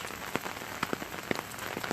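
Steady rain falls outdoors, with a continuous patter on surfaces and scattered louder drops landing close by, heard alone with no voices.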